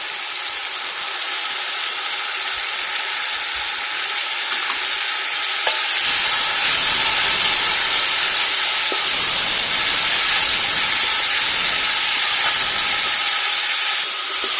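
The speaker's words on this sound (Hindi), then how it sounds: "मसाला बहुत अच्छी तरह से भून चुके हैं।" Masala with tomatoes fries in oil for chicken pulao, making a steady close hiss. The sizzle grows louder and brighter midway, as if stirred or the heat were raised, and it is heard with no talk.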